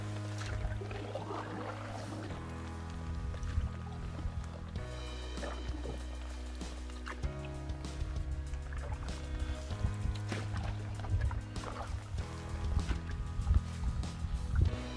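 Paddle strokes dip and pull through calm lake water as a solo canoeist travels toward a portage, soft repeated splashes and drips sitting under a steady bed of background music.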